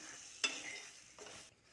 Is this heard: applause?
no